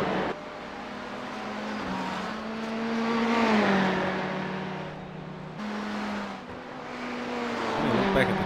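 A Corvette race car's engine accelerates and holds a droning, rising note through several gear changes, loud and steady with a commentator talking over it.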